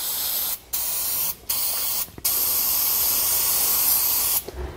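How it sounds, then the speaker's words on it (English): Penetrating oil hisses from a spray can onto rusty trailer U-bolt hardware in several long, loud bursts separated by brief pauses. "We're going to spray it down with penetrating oil."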